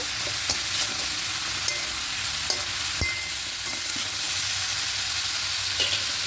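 Green chillies stirred into bottle gourd and hilsa fish head frying in a pan, a steady close sizzle broken by several sharp scrapes and clinks of the spoon, with no talking.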